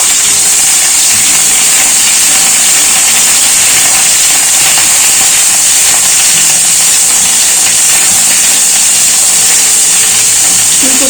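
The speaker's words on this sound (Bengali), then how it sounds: "ফুলকপিটা একটু ভাজা হয়ে গেছে" Cauliflower fries in oil in a wok, producing a loud, even, unbroken hiss with no pauses or voices.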